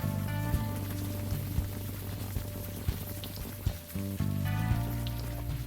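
Steady rain falls in the video game Unavowed, a dense continuous patter with soft droplet textures under low ambient game tones and music, fairly loud throughout with no voices.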